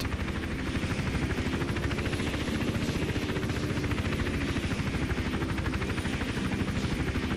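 A helicopter in the video game Hitman: Absolution drones with a fast, steady rotor chop, loud and unbroken throughout with no voices.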